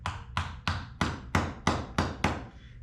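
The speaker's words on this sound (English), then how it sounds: "If you just hammer really gently" A hammer gently taps the tail clip of a splitboard climbing skin into place, eight crisp, evenly spaced knocks with short decays, close and clear with no talking.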